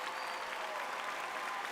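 Dense, steady audience applause at The Game Awards 2022 after an orchestral performance, a continuous wash of clapping from a large crowd.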